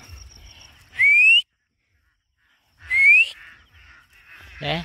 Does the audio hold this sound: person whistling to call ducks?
yes